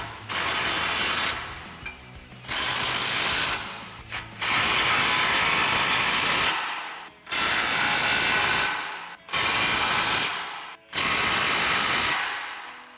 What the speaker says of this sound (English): Now we'll grab our 22mm socket on our impact and we'll tighten these down.